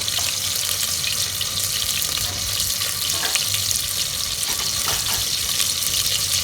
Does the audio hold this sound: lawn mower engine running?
no